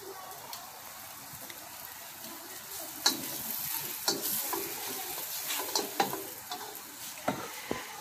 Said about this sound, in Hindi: मैं इसमें अदरक डालूंगी, बिस्मिल्लाह।